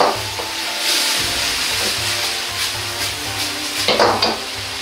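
Wood ear mushroom and pork stir-frying in a pan with a starch slurry added, a close, loud sizzle with scraping stir strokes and brief metallic clinks, no voices.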